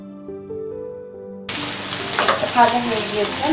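Mashed potato filling hits a hot oiled pan and starts frying, a steady close sizzle that begins abruptly after a short stretch of background music.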